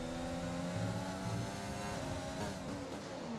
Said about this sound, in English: the Honda VTEC